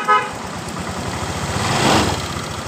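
Honda Vario 125 scooter restarted with a low fuel-pump pressure fault: a brief starter whirr, then the engine idling and rising slightly, close by.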